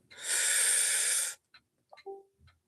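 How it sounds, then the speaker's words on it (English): A deep breath is drawn in during a candle-focused meditation for a pink full moon ritual. A long, loud, airy inhale rushes close to the microphone for over a second, followed by a few faint clicks and small mouth sounds. "Breathe in."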